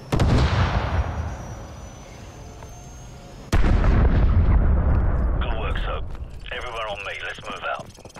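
Gunfire and heavy explosions from the video game Call of Duty Modern Warfare Remastered: a loud blast opens, a second sharp boom lands mid-way, and scattered shots and radio-like chatter continue over a rumbling battlefield.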